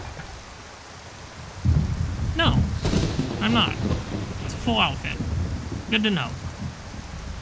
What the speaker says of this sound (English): Rain's great.